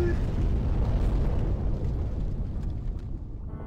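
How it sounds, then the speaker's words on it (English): A boss in the video game Demon's Souls breathes fire, producing a loud, roaring whoosh that starts strong and slowly fades over a few seconds. "Now he's gonna breathe fire."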